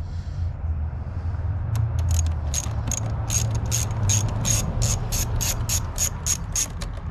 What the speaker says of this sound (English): The first thing we're gonna do is just disconnect the battery.